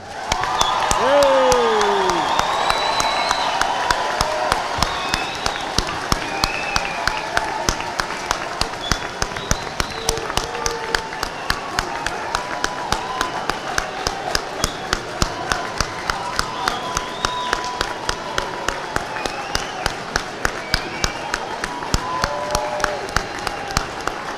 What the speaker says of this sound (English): please welcome the class of 2023 into high school with a big round of applause